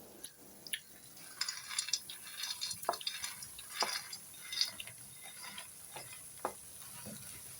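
Fried soya chunks are stirred into dark sauce and tomato ketchup, giving wet, sticky squelches and clicks of a spoon in a rough, uneven rhythm over a faint, low sizzle.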